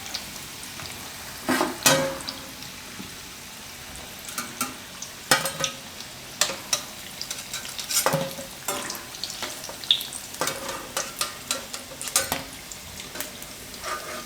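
Spinach and potato bhajiya fritters fry in hot oil with a steady sizzle, broken by frequent clinks and scrapes of a utensil turning them; no voices.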